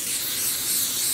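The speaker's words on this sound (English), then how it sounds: "But then you can mix up your own colors to then have a pressurized spray." A pressurized spray bottle spritzes dye onto a knitted sock blank, a close, loud, continuous hiss lasting about a second.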